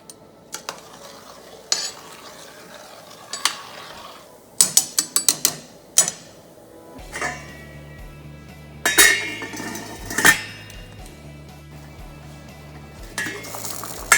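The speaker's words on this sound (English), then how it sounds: "Make sure it's all stirred and let it boil for about 5 minutes." Boiling rice stirred in a pot for fried rice, metal spoon clacking and scraping against the pot in bursts over a low rolling bubble.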